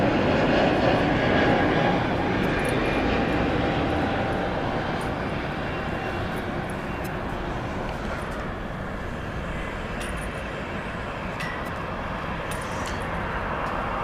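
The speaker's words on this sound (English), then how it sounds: "Spirit Flight 860 headed for the short hop to Las Vegas, an Airbus A321 Neo." Spirit Airlines Airbus A321neo jet at LAX, a continuous broadband engine rumble that is loudest at the start and eases slightly to a steady drone, alone without talk.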